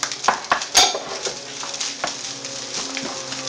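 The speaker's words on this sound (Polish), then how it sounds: "Wszystko mieszamy." A spoon stirs pork-beef mince with diced carrot, onion and garlic in a pan, producing close scraping clinks and a soft sizzle, with a few sharper knocks early on and no talking.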